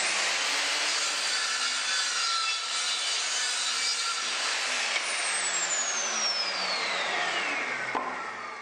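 A miter saw tilted sideways cuts wooden stretchers at an angle for a plank car ramp, a loud continuous blade whine and grinding through wood that winds down in pitch toward the end as the blade stops.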